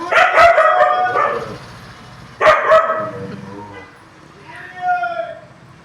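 Dogs barking at passers-by on a road: a few sharp barks in quick bursts, near and moderately loud, with pauses and a softer yelp toward the end.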